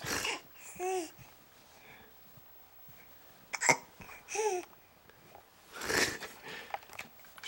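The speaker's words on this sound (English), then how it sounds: "Should we try to drown the hiccups?" A baby hiccups repeatedly, several sharp little hiccups spaced a second or two apart, mixed with soft babbling and breathy sounds, close by.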